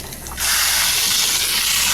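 A shower faucet in a 2012 Keystone Passport 3220 BH travel trailer opens and pink RV antifreeze sprays out. It starts with a sudden close rush, then keeps a steady hissing spray to the end, with no voices.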